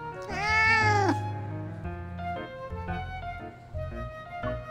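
A cat character in the video game Love & DeepSpace gives one long, clear, rising and falling meow up close, followed by softer game sounds and faint background tones.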